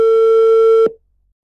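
A steady telephone tone sounds loud and close while the caller waits for an answer, then cuts off abruptly just before one second, leaving silence.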